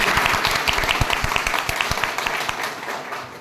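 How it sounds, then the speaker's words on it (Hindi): A crowd at a calligraphy art event in India breaks into loud, dense applause, close and sustained with a few distinct nearby claps standing out. "और जो गूंज थी है तालियों की"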